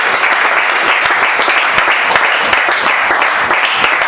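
A church congregation at a Sunday worship service applauds Jesus with dense, loud, continuous clapping that fills the whole stretch, with a few voices mixed in.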